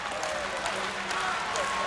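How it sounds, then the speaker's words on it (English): Wrestling arena crowd cheers and claps in a broad continuous roar through the whole stretch, with a commentator's voice talking over it. "trying to get the crowd involved here"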